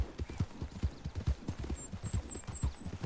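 Steady rhythmic hoofbeats of a horse in the Red Dead Online video game, a close, fairly soft clip-clop at a trotting pace, heard alone without talk.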